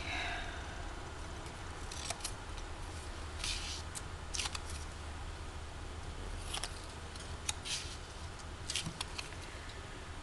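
Scissors cut paper for a Christmas card in a quiet room, producing a few faint, brief snipping and rustling sounds scattered over a soft background hiss, with no talking.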